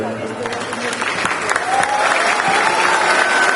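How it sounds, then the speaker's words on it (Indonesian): Applause for a student named Ray at a campus forum in Pontianak, a full crowd clapping loudly and evenly, swelling slightly and sustained with some voices beneath. "Tepuk tangan untuk Ray."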